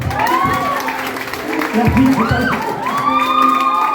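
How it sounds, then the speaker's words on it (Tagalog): An audience at a motivational talk breaks into loud clapping mixed with whoops and excited shouting voices, a lively burst of applause and cheering close by. "Palakpak nga ulit."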